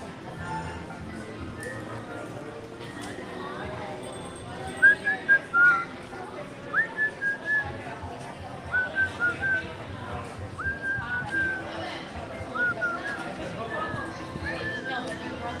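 A person whistles short melodic phrases close to the microphone in a busy EPCOT setting, with crowd chatter and background noise underneath.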